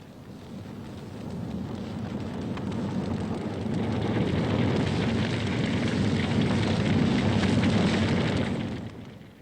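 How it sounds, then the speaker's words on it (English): An Australian bushfire burning through the countryside: a steady, dense roar and crackle that swells slightly and holds loud for about nine seconds, with no voices. "every summer they may feel it as winds from the deserts bring fires like this"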